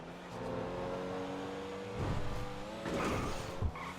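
A Pfister Comet S2 sports car in GTA Online accelerates with a steady, whining engine drone that climbs through gear changes, fairly quiet overall, with small bumps and knocks late on.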